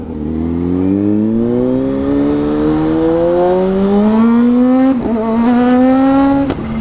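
A Kawasaki Z H2 motorcycle accelerates hard, its engine note climbing steadily in pitch as revs rise, briefly dipping at a gear change before climbing again, loud and close with no talking.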